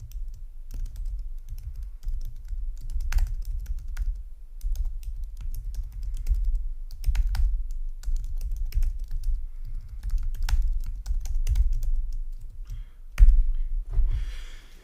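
Computer keyboard typing while filling in bio text on a website builder: a steady run of soft keystrokes with brief pauses, close and alone, with no speech.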